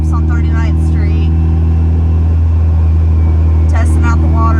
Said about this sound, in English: Testing out the water a little bit with the new engine. But it's running really smoothly and sounds good.